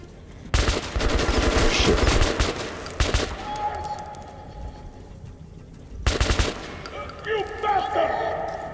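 Bursts of rapid P90 gunfire in the video game Metro: Last Light Redux, two loud sustained volleys separated by quieter game ambience, with a few single shots in between.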